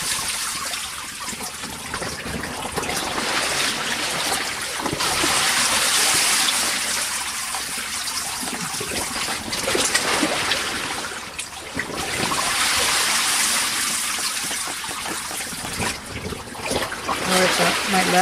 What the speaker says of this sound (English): I'll take you in to take a look at how everything's dripping.